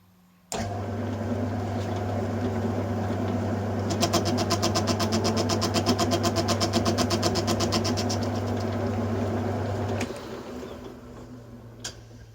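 A lathe skims the commutator of a BTH CA 4750 starter motor: a steady motor hum starts abruptly, then a fast rhythmic ticking cut builds for several seconds before the lathe winds down, with no talk.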